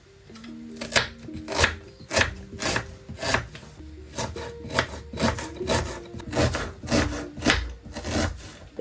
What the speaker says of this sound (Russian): А лук порежу мелкими кубиками.